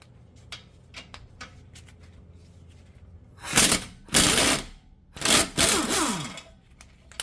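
A ratchet with a 21 mm socket loosens a bolt on a broken Jeep Wrangler front-end bracket, with faint clicks at first and then three loud bursts of rapid ratcheting, close up.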